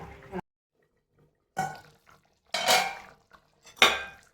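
Chicken curry being stirred in a pot, with a few separate bursts of a spoon scraping and clinking against the metal, split by silent gaps and ending in a sharper clatter, close and moderately loud.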